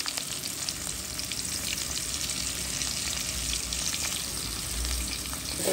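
Tomatoes and green chillies fry in a pan with a dense, continuous sizzle and faint stirring scrapes, steady and close without any voices.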